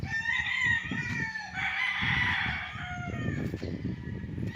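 Chickens cluck and roosters crow nearby from their coops on a farm, several birds overlapping in a busy farmyard chorus that continues throughout.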